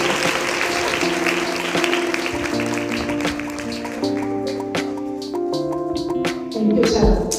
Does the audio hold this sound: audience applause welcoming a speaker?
yes